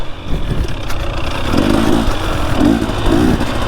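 A 450 four-stroke dirt bike rides and turns, its engine droning steadily with rising and falling revs, fairly close and continuous throughout, with no talk over it.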